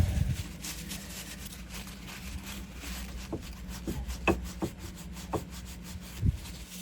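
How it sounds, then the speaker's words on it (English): Grease being wiped out of a keyway during boat maintenance gives soft, close rubbing and scraping strokes, with several light taps and knocks spaced through the second half over a low background hum. "See about cleaning up some of the grease in the keyway here."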